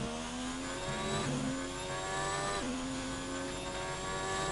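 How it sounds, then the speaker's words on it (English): F1 racing video game car engine revving hard and continuously, its pitch climbing and dropping with gear changes, loud and close with no talk. "Revving the engine a lot."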